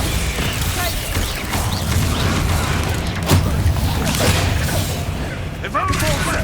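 Bombardo, an explosive blasting spell in the Hogwarts Legacy video game, goes off in a dense, continuous wash of combat noise with a sharper boom near the middle, with no voices over it.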